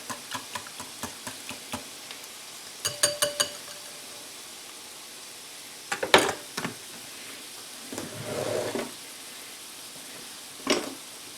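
A spoon clicks and scrapes in a pan as a tuna a la king mixture is stirred, giving soft irregular taps in short bursts with quiet gaps, close and fairly faint.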